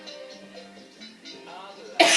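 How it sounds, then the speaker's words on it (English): A faint voice hums along at first, then a single loud, harsh cough bursts out close to the microphone at the end. "Sorry about the coughing."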